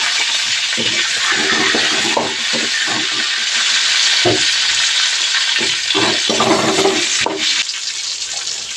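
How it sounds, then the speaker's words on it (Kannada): Chopped onion, tomato, garlic and cinnamon fry in a pan for palak paneer gravy, a loud, steady close-up hiss and sizzle with intermittent scraping and clinking from stirring. "ಇದೇ ಬಾಣಲೆಗೆ ಕಟ್ ಮಾಡಿರೋಂಥ ಈರುಳ್ಳಿ ಮತ್ತು ಟೊಮೊಟೊ ಮತ್ತು ಬೆಳ್ಳುಳ್ಳಿ ಮತ್ತು ಚಕ್ಕೆ ಇದನ್ನು ಫ್ರೈ ಮಾಡ್ಕೊಳ್ತೀನಿ"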